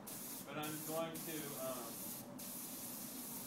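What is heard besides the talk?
spraying ceramic glaze with a spray gun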